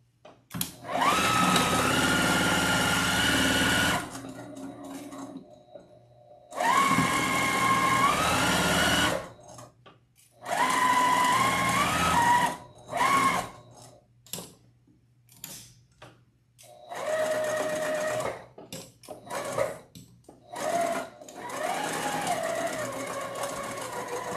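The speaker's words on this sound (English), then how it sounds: "And now we just sew all the way around and we stop right here." A sewing machine stitching around a fabric wreath attachment, running in several bursts of a few seconds each with a rising-and-steady motor whine, separated by short pauses and handling noises, close and clear.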